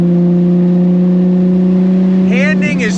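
Nissan Skyline R34 GT-R engine droning loudly at a steady pitch, then rising briefly in a rev near the end, with a voice speaking over it.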